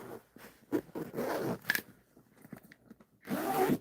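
Zipper on a pocket of a handmade bag, quiet close rasping pulls in a few short strokes with clicks and handling rustle.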